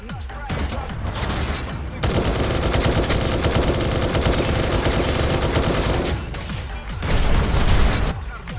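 Rapid bursts of heavy automatic machine-gun fire from a T-90 tank in a video game, loud and sustained, with short pauses between volleys and a rumbling low end.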